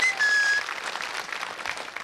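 A studio audience on the Russian TV quiz show Zvyozdny Chas bursts into applause, a dense burst of clapping that starts loud and tapers slightly over two seconds.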